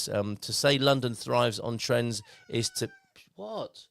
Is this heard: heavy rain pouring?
no